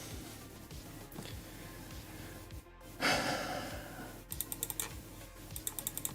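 Rapid clicking on a computer during an Active Directory enumeration exercise: steady soft clacks with a brief breathy burst midway, then quick bursts of repeated sharp clicks near the end, close and fairly quiet.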